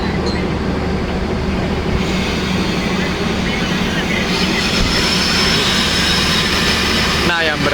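Arjuno Express passenger train at an Indonesian station, a steady loud rumble of engine and rolling cars throughout with a shift in tone partway.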